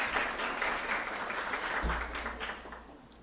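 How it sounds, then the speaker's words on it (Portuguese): After a hands-on legal workshop lecture, the audience gives a round of applause. The clapping is fairly soft and continuous, then fades toward the end as a low hum comes in beneath it. "uma salva de palmas novamente"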